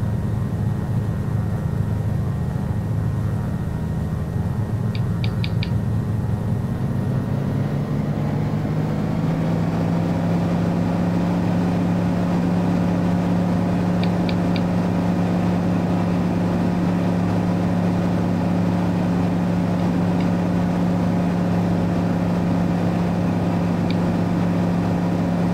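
Carenado Cessna 206T single-engine aircraft in FSX, flying a downwind leg: a steady, loud propeller-engine drone runs continuously, with its pitch settling into a constant hum partway through.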